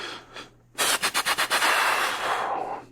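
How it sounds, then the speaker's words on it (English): Gunshots fired just in front of police officers: a rapid burst of about six loud, close cracks in quick succession, then a sustained ringing wash of noise as the shots trail off. "Shots fired. It's in front of us."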